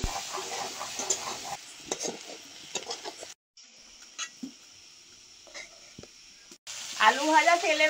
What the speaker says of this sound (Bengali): মাছ ভাজা তেলের মধ্যে আলুগুলো লবণ দিয়ে ভেজে নেব